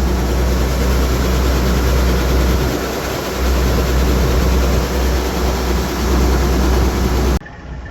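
An old John Deere grain cart unloads corn during harvest, with a tractor engine running, giving a loud steady low rumble and roar throughout that drops off sharply at the end.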